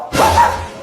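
A single short, loud bark-like burst from a human voice imitating a dog, close and alone, lasting well under a second.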